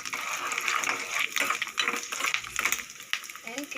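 Cashews and raisins frying in ghee in a pan give a steady, close sizzle with light metallic clinks and scrapes of stirring throughout.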